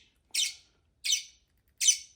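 Pet parrots give three sharp, loud squawks, each short and evenly spaced about a second apart, with silence between calls.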